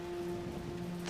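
Steady rain falls in a stormy TV drama scene from Smallville, a soft, even patter with a faint constant hum beneath it and no voices.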